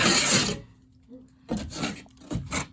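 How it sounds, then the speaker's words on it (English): Debris scraped off a damaged drywall ceiling during repair, several loud, close rasping strokes separated by short quiet gaps, with no talking. "Scrape off the debris."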